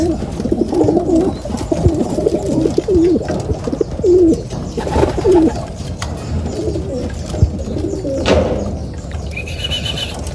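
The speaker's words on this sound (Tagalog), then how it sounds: "Si Salpok yan mga kalapatids" Pigeons coo repeatedly in soft, low rolling phrases close by, several calls spread through the stretch over a faint background murmur.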